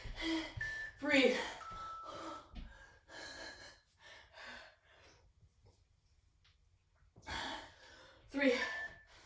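Heavy, gasping breaths during a mostly leg-focused full-body workout, loud close inhales and exhales in two clusters separated by a quieter stretch, with a few short vocal sounds.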